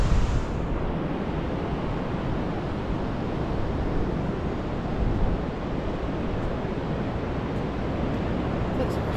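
Waves wash continuously along the beach at Northern Ireland's Giant's Causeway in November, a dense steady roar of surf mixed with wind buffeting the microphone.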